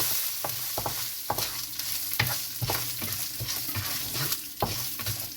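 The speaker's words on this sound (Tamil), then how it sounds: "இந்த இஞ்சி, இந்த 2 பல்லு பூண்டு இதையும் போட்டு வதக்குவோம்." Green chillies, ginger and two garlic cloves sautéing in a pan, a constant close sizzle broken by frequent spatula scrapes and stirring knocks.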